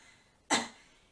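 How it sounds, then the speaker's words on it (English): One short, soft cough, close and isolated in an otherwise quiet room. "you do a little cough"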